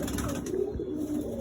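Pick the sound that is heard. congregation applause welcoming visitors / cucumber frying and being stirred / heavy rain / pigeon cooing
pigeon cooing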